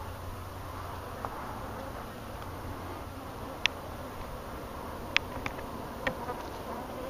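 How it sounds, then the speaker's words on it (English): Honey bees buzz in a steady, dense drone around a disturbed, good-sized hive during a removal, with a few sharper individual bees passing close; no voices. "hive's pretty good size, and they're not real happy. Yeah, I got a guard bee already on the attack"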